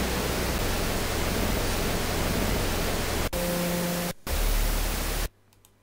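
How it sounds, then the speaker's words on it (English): Loud, dense static hiss blankets the audio, briefly breaking with faint tones underneath before cutting to near silence. "noise with the original sound in the background"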